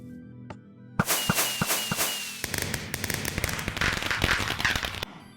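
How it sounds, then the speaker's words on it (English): Video game fireworks fired from a crafted button-and-repeater contraption, a rapid run of sharp cracks and pops going off in coordinated bursts, loud and close, building into a dense crackling volley. "fireworks will go off in a very coordinated way"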